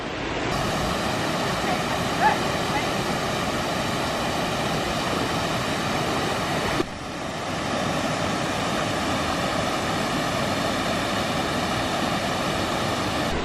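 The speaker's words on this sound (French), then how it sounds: "Et comment s'appelle cette cascade? Mare Totara Falls." Mare Totara Falls, a waterfall beside a river in New Zealand, gives a steady, dense roar of rushing water that stays even and fairly loud throughout, with no voices.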